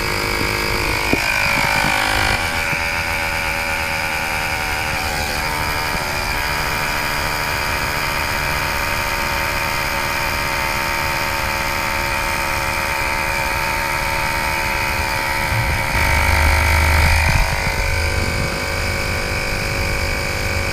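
A Moto portable air compressor runs steadily and loud, with a continuous droning motor hum and a whine underneath. It holds evenly for about twenty seconds with only slight shifts in tone.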